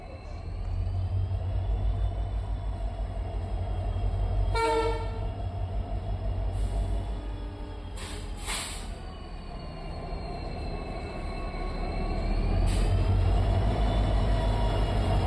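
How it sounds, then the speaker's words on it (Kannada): Solapur-Hubli passenger train arriving at Vijayapura station platform 1: a continuous heavy rumble of the approaching train with several sharp horn blasts, one long and others brief, and a squealing tone near the end. "ಸೊಲ್ಲಾಪುರದಿಂದ ಹುಬ್ಳಿಗೆ ಹೋಗೋ ಪ್ಯಾಸೆಂಜರ್ ಟ್ರೈನು ಈಗ ವಿಜಯಪುರ ಪ್ಲ್ಯಾಟ್ಫಾರ್ಮ್ ನಂಬರ್ 1ಕ್ಕೆ ಬರ್ತಿದೆ"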